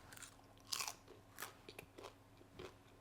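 Crisp crunches of someone biting into a buttery, crispy hasselback potato, close up, followed by several quieter chewing crunches at an uneven pace.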